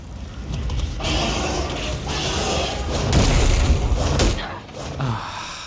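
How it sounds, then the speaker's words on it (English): Heat-seeking missile blasts in the video game Control, heavy rumbling booms and thuds layered in a dense, continuous roar that swells in the middle and fades at the close. "Freaking heat-seeking missiles"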